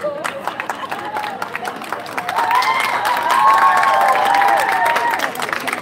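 Audience applause and cheering at a live 2019 show, modest at first and then swelling louder, with voices and shouts mixed through the crowd.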